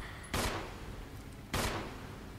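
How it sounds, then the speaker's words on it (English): Gunfire aimed at a shark in the video game Resident Evil: two sharp, loud shots about a second apart, each with a short decaying tail over a steady background hum. "I'm gonna start shooting it, and hopefully it'll die."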